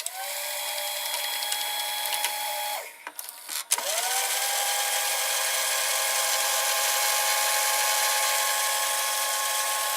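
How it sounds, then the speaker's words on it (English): An MTC MCR 215R VCR fast-forwarding its tape: a loud, high whine runs steadily, drops briefly with a couple of mechanical clicks, then spins back up to a sustained whir heard up close. "So now I will press fast forward with the remote,"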